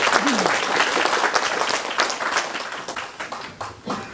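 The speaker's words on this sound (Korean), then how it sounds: "다시 한번 박수 보내주시면 감사하겠습니다" An audience applauds at the 16th Nogeun-ri Peace Prize award ceremony, with sustained clapping from a crowded hall, individual sharp claps standing out through a continuous rolling wash.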